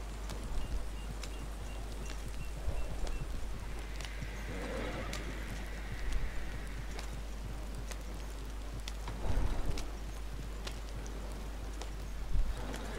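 Wagon horses in Red Dead Redemption 2 clip-clop with soft, irregular hoof steps and let out an occasional whinny over a steady hiss of ambient game noise.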